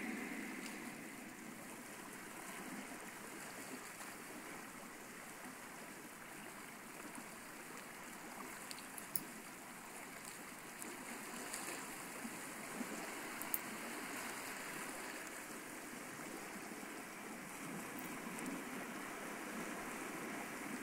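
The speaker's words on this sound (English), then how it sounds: "Look at the waves" In the horror game A Wolf in Autumn, water waves wash in a steady, even rush that continues the whole time without any break or voice.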